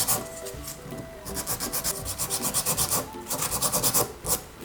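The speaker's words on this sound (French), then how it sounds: "Donc je vais venir hop limer de l'autre côté aussi afin de rééquilibrer le tout." A nail file rasps back and forth against an artificial nail tip in quick, even strokes. The scraping is close and fairly loud, coming in bursts with short pauses between them, and no one speaks over it.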